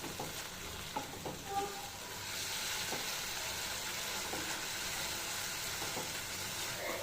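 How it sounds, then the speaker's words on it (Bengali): Boiled potatoes are stir-fried in a pan for a vegetable curry, a soft steady sizzle with scraping stir strokes near the start, quiet and close without talk. "এটাতে দিয়ে একটু ভাজা ভাজা করে কষিয়ে নিব"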